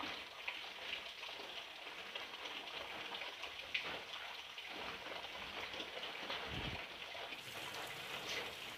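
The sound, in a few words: rain falling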